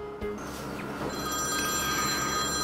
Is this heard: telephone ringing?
yes